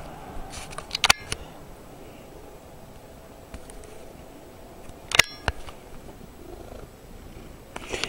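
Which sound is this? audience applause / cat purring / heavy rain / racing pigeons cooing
cat purring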